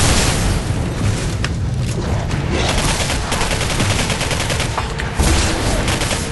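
Rapid, loud gunfire from guns in the video game Singularity, dense bursts of shots with booming impacts packed together throughout, close and continuous with no speech.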